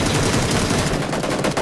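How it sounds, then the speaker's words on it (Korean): Loud, rapid bursts of gunfire from the battle royale game PUBG, a dense rattle of shots filling the whole stretch at close range with no pauses. "이거 계속 왜 소리가 들리냐? 막 그 총소리?"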